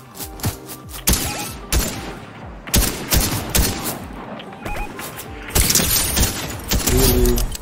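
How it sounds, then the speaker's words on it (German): Fortnite gunfire crackles in repeated sharp bursts and single shots, loud and irregular, with mechanical clatter between volleys. "Von unten aus dem Wasser kommen auch Schüsse."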